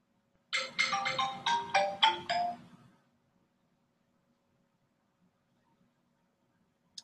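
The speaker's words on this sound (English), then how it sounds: "Mute the cell phone." A cell phone ringtone chimes in a short melodic burst of about six bright tones over roughly two and a half seconds, then stops, leaving a quiet room.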